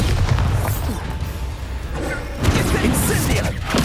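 The Bombarda blasting spell in the video game Hogwarts Legacy, a loud booming burst with a crashing tail over dense, busy battle noise, and a second heavy impact following a couple of seconds later.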